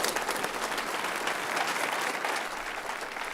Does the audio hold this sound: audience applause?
yes